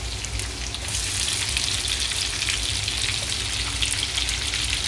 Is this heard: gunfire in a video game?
no